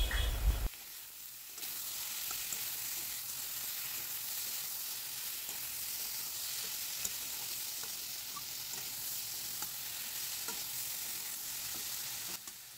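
Prawns and pointed gourd frying with salt, turmeric and chopped tomato, a steady, soft sizzle with faint stirring scrapes after a brief louder clatter at the start, continuing evenly throughout.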